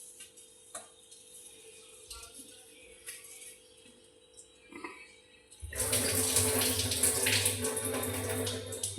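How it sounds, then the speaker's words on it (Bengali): Rice being washed in water, first quiet light swishing and dripping, then a loud steady rush of running water pouring over the grains in the second half. "দুবার চাল ধুতে নয়, 3বার ধুতে হয়। আরও একবার ধুয়ে নেব।"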